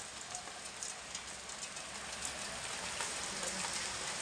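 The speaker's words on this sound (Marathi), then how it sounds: "मस्त पाऊस पडायला लागले आयुष्य बदलाय भारी पाऊस पडायला लागलाय बघा" Heavy rain falls steadily in a dense, continuous hiss with scattered louder drop impacts on surfaces, fairly close and with no voices.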